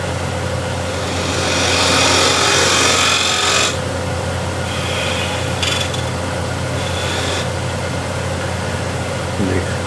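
A half-inch spindle gouge cuts wood spinning on a lathe, giving a steady motor hum beneath a rough, hissing scrape that swells and eases as the tool works the piece.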